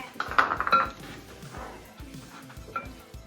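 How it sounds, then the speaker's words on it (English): A spoon scrapes and clinks against a bowl while rocky road ingredients with desiccated coconut are stirred together, a few irregular knocks and scrapes close by, no talk. "do you want to try and give it a mix for us, Jo?"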